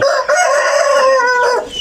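A rooster on a Thai poultry farm gives one loud, close, sustained crow lasting nearly two seconds, strong and unbroken, with no talk over it.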